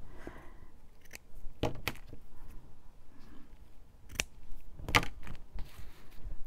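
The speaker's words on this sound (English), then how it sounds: "And then you can trim the excess" Scissors snipping excess paper off a kraft bag junk journal, a few sharp, isolated close cuts spaced apart over quiet rustling, with no talk.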